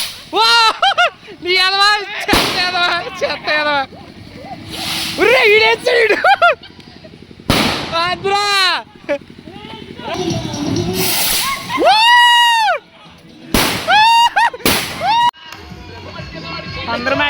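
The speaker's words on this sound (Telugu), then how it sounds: "జువ్వలు బాంబులు మామూలుగా లేదు హడావిడి." Firecrackers and whistling rockets go off at a school reunion celebration, with swooping whistles and several sharp, loud bursts scattered among lively nearby talk and shouting.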